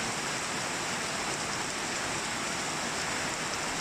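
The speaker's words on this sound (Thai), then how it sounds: "วันนี้ครับพาชมบรรยากาศฝนตกนะครับเนาะ" Steady rain pours through a storm late in the rainy season, a dense, even hiss that stays loud and unbroken throughout with no voices.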